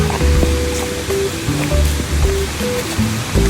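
Erawan waterfall in Kanchanaburi, Thailand pours steadily, a loud continuous rush of falling water with some splashing, no voices over it.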